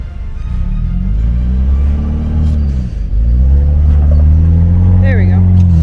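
An overlanding vehicle at the Grand Canyon in Arizona grinds slowly over a rock, its engine a loud, close, low rumble that dips and swells with the throttle, while people talk over it.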